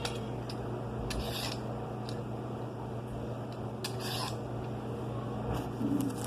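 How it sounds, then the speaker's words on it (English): Carrots scraped with a peeler in a home kitchen, a series of short raspy strokes at irregular intervals over a steady low background hum, close and fairly quiet, no talk. "I'm just peeling the carrots"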